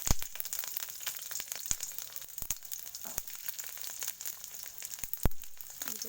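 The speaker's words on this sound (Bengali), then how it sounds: "তেল হিট হয়ে রয়েছে তো আমি প্রথমত একটু রসুনটা যেহেতু ভেজে নিতে হবে" Garlic sizzles steadily in hot oil in a pan, with a soft, continuous crackle and occasional sharp clicks and pops from stirring, close up and with no talking.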